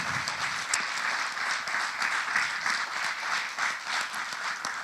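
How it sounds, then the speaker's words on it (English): A round of applause from a church audience at Solid Rock Faith Center for a group of local election candidates, moderately loud steady clapping with a few sharper individual claps standing out. "Could we give a big round of applause for our first group?"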